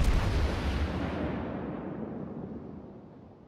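Heavy naval artillery fire in World of Warships: one loud, booming blast at the start that rumbles and slowly fades over a few seconds, with no talking.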